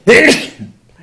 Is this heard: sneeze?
yes